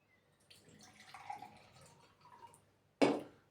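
A tropical-mix soft drink pours steadily into a glass for a couple of seconds, gurgling softly, then a sharp clunk ends it.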